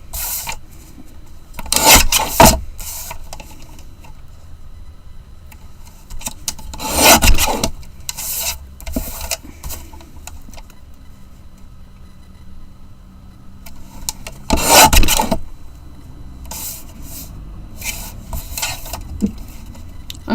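Paper being trimmed for a white craft border makes several separate rasping, scraping strokes from a trimmer blade, each about a second long, with quieter gaps of handling between them.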